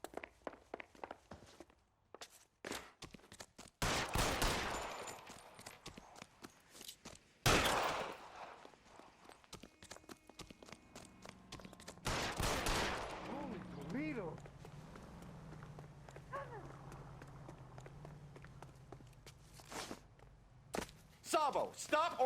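Gunshots from a shootout in the crime video game L.A. Noire, sharp loud bursts at irregular moments over a scene full of footsteps and movement, with voices speaking nearby.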